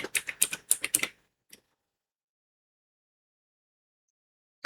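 A quick run of close computer keystrokes while entering a command, followed by a single isolated keypress for enter, then silence and one last click.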